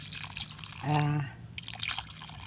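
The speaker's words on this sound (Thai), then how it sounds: "ก็จะเทน้ำนะคะ" Water poured into a plant pot while repotting a colorful caladium, a short trickling pour with a brief bubbly gurgle near the mic, with soft background noise around it.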